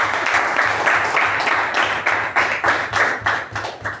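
Audience at a Toastmasters meeting breaks into steady, dense applause, many hands clapping together at close range for the full stretch with no voices over it.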